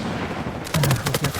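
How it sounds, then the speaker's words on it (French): Rapid bursts of gunfire in the Uncharted 4 video game, a quick series of sharp shots from some distance following a quieter stretch. "Ah, ça tire de là-bas."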